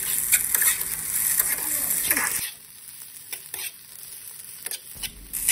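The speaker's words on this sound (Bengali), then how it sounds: "তারপর ধনেপাতা কুচিটা দিয়েও আমি কিন্তু 2 মিনিটের মতো ভেজে নেব।" Vegetable pasta with chopped coriander fries in a pan, a steady close sizzle with stirring scrapes that drops to a quieter, crackly hiss partway through, with no voices.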